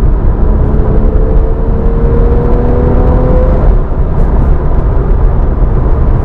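A Porsche 911 991.1 Carrera S on fresh Michelin PS4S tires cruises steadily, its engine and road roar continuous and loud from inside the cabin, with a faint tonal whine rising briefly early on.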